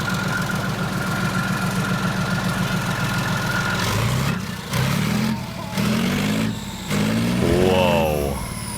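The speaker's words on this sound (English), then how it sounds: "All right, let's hear it fire up. Fired right up." A European diesel tank engine cold-starts and settles into a loud, rhythmic idle with a knocking beat, then the engine sound is broken by bursts of overlapping talk and revving, all close and heavy.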